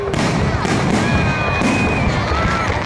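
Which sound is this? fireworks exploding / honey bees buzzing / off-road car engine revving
fireworks exploding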